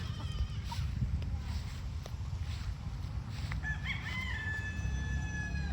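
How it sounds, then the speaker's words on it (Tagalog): A rooster crows amid a noisy outdoor background of clucking fowl, with a steady low rumble underneath. "Dito naglalamierda yung mga manok."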